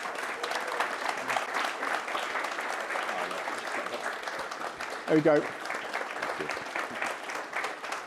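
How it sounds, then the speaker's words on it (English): A conference audience claps continuously at a steady level while a voice speaks briefly over the applause partway through. "Get a round of applause, please."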